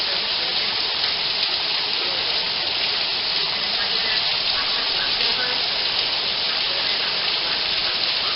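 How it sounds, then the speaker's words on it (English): Heavy monsoon rain falls steadily outdoors, a dense, even hiss of downpour that is loud and close and runs without a break. "We're having a nice rainfall,"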